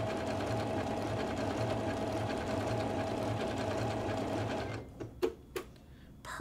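A Janome sewing machine runs a decorative stitch over ribbon with a steady, even mechanical whir, then stops, leaving a few faint clicks and handling sounds.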